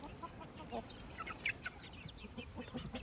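Several chickens cluck and murmur softly nearby, overlapping chatter with a few sharper squawks, fairly quiet and continuous.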